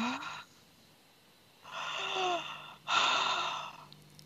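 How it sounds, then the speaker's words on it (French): Deep breaths drawn in and let out during a hypnosis session, heard close and quiet as a short intake followed by two longer breathy inhalations and exhalations with pauses between. "Inspire profondément."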